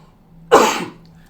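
A single sharp cough bursts out once, close and fairly loud, then quickly fades into quiet room tone.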